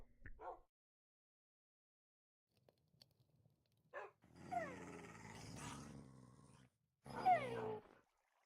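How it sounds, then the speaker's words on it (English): Dogs growling and snarling in bursts: a short yip, then a long rumbling growl, a pause, and another harsh snarl, fairly faint and with no talk over it. "Dogs are really starting to annoy me."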